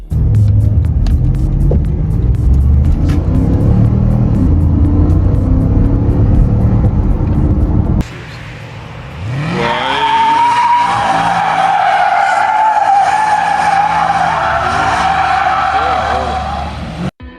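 A Porsche Panamera Turbo, the 2017 971 generation with a 4-liter twin-turbo V8, driving in a Need for Speed racing game: loud engine drone and tire skids first, then a rising, steady high revving tone after a brief dip.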